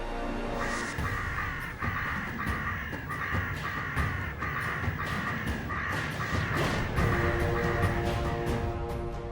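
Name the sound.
crows cawing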